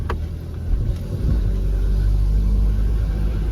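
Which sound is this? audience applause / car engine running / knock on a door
car engine running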